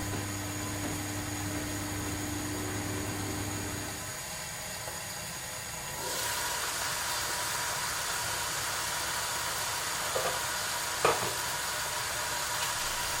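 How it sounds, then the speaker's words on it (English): Salmon fillet frying in a lidded Ninja Zerostick pan gives a steady, broadband sizzle that swells louder partway through, with a couple of brief clinks near the end and no talking. "So in goes the salmon. Yes, it's sizzling nicely."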